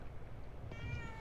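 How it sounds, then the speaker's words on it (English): A single short cat meow in The Evil Within 2 video game, faint and brief against a low background hum. "I don't ever remember owning a cat."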